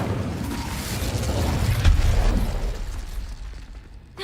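Incendio fire spell cast in Hogwarts Legacy, a burst of flame swelling into a loud, rumbling whoosh that peaks midway and then fades, with no talk over it.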